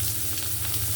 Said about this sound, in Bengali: নেড়ে দিতে হবে, লাল লাল করে ভাজতে হবে।